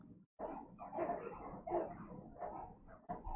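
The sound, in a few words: dog barking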